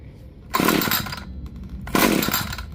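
An ECHO SRM-2620 gas string trimmer, a curbside find, fires up in two short loud bursts, its small two-stroke engine buzzing briefly, dying back, then revving again.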